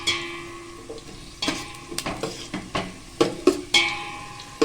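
A pan of basanti pulao, sweet yellow rice, is stirred over a low simmer, with repeated scraping and clinking spoon strokes over a soft steady sizzle.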